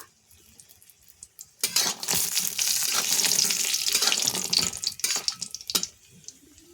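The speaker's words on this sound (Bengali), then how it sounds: "এরপর দিয়ে দিচ্ছি দুটো শুকনো লঙ্কা" Two dried red chillies drop into hot oil, sparking a sudden loud sizzle and crackle that carries on for several seconds before dying back to quiet, with a few stirring clinks.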